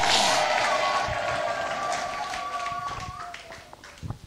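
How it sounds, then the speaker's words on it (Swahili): A church congregation applauding for Jesus at an Easter service, with broad sustained clapping and cheering that slowly fades, along with a faint held vocal tone. "Mpigie Yesu makofi mazuri kabisa"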